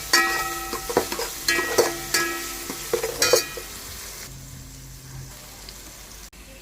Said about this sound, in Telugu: ఇప్పుడు మనం మంచిగా ఫ్రై చేసుకోవాలి.